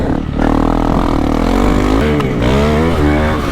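A Honda CRF300L dirt bike with a stock 20-horsepower engine revs hard close by, a loud steady engine drone that rises and dips in pitch as the throttle opens.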